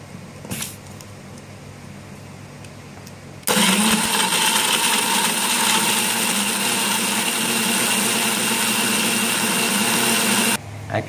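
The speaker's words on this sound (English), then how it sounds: "We're going to grind the soaked mixture as a coarse paste, little bit nice, not that much coarse." An electric mixer grinder grinding a soaked mixture into paste for mor kulambu starts abruptly after a quiet handling moment, then runs as a loud steady whining roar for about seven seconds before cutting off.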